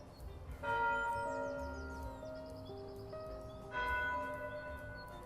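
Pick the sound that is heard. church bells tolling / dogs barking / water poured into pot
church bells tolling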